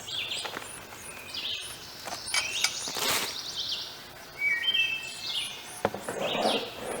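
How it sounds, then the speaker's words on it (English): Prothonotary warbler nestlings and their parents at a garden birdhouse give thin, high chirps in scattered bursts, fairly faint against a soft outdoor background hiss. "It is full of prothonotary warbler babies, and I get to watch Mom and Dad come to feed them often."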